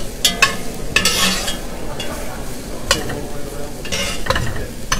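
Vegetables sauté in a pan, sweating down over a steady sizzle while a utensil stirs them, sending up bursts of scraping and clatter. The sound is close and fairly loud, with no one talking.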